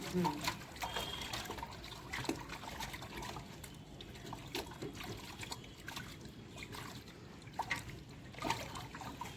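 Water splashes and trickles as chopped ash gourd is rinsed, a steady close wet patter with small irregular drips, and a voice faintly present in the background.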